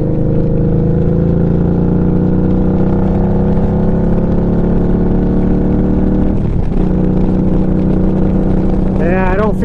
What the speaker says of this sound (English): the good thing is I can actually start the bike